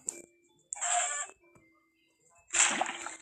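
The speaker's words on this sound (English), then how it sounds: "A chicken." Chickens in the Minecraft video game, with short clucking bursts separated by quiet gaps, a faint steady tone under them, and a louder burst near the end.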